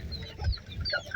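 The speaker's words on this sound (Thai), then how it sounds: "ไก่เนาะ" A chicken clucks softly somewhere in the background, a few low, faint notes sitting under a quiet outdoor ambience.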